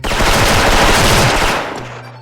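Rapid automatic fire from a Platinum FAMAS 2nd Gen rifle in the shooter game Special Force, a loud, dense burst running about a second and a half before cutting off and trailing away.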